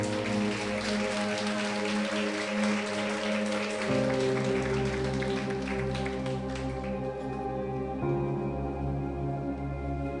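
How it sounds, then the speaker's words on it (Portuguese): A church congregation claps together during an evening service while steady sustained keyboard music plays. The applause is a dense, continuous patter mixed under the loud musical tones. "Você pode aplaudir o Senhor Jesus"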